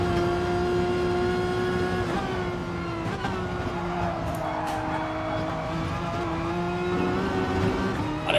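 Renault Mégane Trophy race car in GT Sport climbing a hill on the Nürburgring, engine droning steadily and loud throughout with a slight pitch dip and rise as it pulls, alone without talk.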